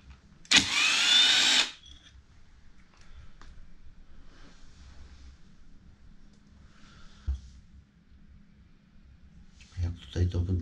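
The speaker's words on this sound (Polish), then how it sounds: "Ona właśnie pracuje pneumatem." Pneumatic tool working on a BMW clutch, one short loud hissing burst near the start, then quiet workshop sounds with faint clanks and people talking.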